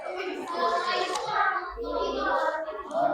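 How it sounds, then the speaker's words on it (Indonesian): Classroom clapping for a student group presentation, a busy patter of hands mixed with children's chatter and voices throughout. "Tepuk tangan sekali lagi"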